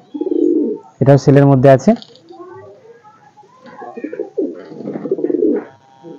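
Madrasi pigeons, a breeding pair offered for sale from a loft, coo in low repeated murmurs that come and go while someone talks over them for most of the stretch.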